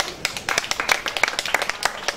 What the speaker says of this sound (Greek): Το χειροκρότημά σας